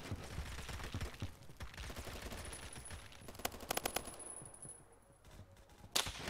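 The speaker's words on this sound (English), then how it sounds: "That was a grenade." A grenade blast in the online shooter Phantom Forces lands among dense rapid gunfire: a loud crackling burst near the middle, a quieter lull, then a sharp final bang.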